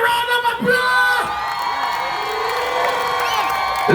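A festival crowd at the Grace Jamaica Jerk Festival in Miami cheers loudly for the dancehall performer Elephant Man, with whoops and shouts in a sustained roar and steady tonal sound running underneath.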